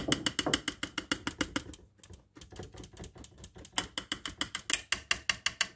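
A stand mixer briefly stirs sifted flour and cornstarch for a strawberry cake, giving a steady run of fast rhythmic mechanical clicks and whirs that pause for a moment midway and then resume, close and clear with no talking.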